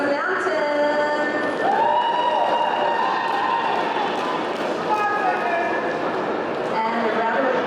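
Audience applause and cheering at a roller derby bout, a sustained crowd roar with clapping and whistles, continuing under an announcer's voice.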